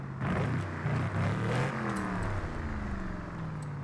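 Forza Horizon 5 racing game car revving after an ignition timing tune, a loud steady engine roar with rising whir and faint clatter, no voices over it.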